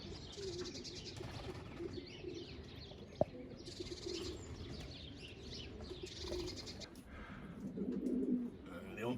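Pigeons in a backyard loft coo softly and intermittently against steady outdoor background noise, with one sharp click and a faint flutter of activity nearby.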